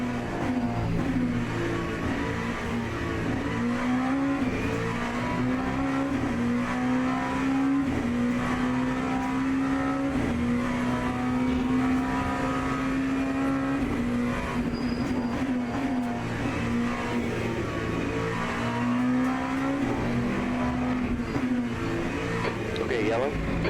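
Simulated race cars in Le Mans Ultimate drone steadily through an online weekly race, their engine whine rising and dipping with repeated gear changes beneath continuous voices talking over the action.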